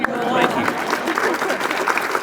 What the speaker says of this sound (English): I think that's worth clapping for.